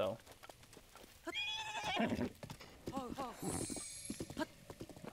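A horse in Zelda: Breath of the Wild clops along with hoof beats and snorts, and a whinny rises partway through, while someone talks over it.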